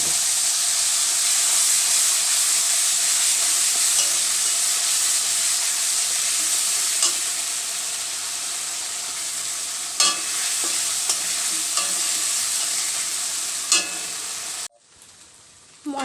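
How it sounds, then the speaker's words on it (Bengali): Spices fried and stirred in a hot pan for a home-cooked egg curry, a loud continuous sizzle with scattered scraping stir strokes, cutting off abruptly near the end. "মশলা কষানো হয়ে গেছে"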